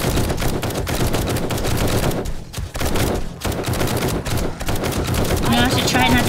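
Sustained rapid gunfire from the zombie survival game 7 Days to Die during a horde night, dense bursts of shots running almost continuously with brief lulls and other game effects layered in.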